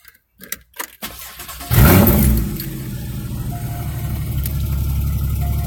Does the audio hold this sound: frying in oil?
no